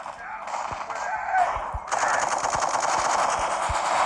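Rapid automatic gunfire in the shooter video game Bullet Force crackles in steady bursts, with sharp single shots mixed in, under a continuous noisy game background while a player talks.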